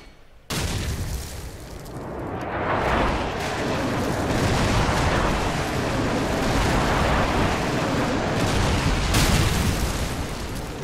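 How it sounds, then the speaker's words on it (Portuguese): A machine gun fires without pause in a shooter video game, bursting in abruptly after a short quiet moment and then holding as a dense, loud, continuous roar of rapid shots and booms to the end. "Tá metranca aí que não para de atirar, hein?"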